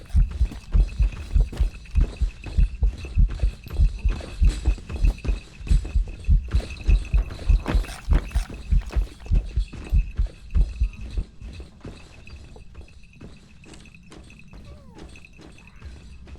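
Rapid, heavy thudding footsteps of a hunting ghost in the game Phasmophobia pound steadily for several seconds, then fade to softer, scattered steps, with no voices.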